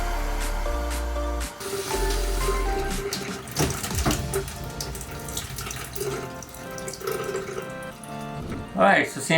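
Water gushes from a tap in bursts, splashing into a sink, with a voice speaking and some background clatter, while testing a repaired shut-off valve.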